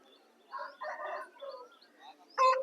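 A rooster crows at a native rooster market in Vijayawada. Harmonic calls rise mid-clip, then a loud, close crow bursts out near the end, with faint clucking and ambient market noise beneath.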